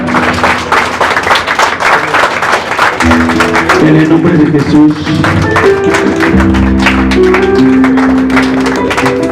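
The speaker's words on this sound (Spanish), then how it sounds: "¿Quieres darle fuerte un aplauso al Señor?" Church congregation applauding during a Spanish-language worship service, clapping steady and loud across the whole span under a preacher's amplified voice, with sustained music or organ tones joining partway through.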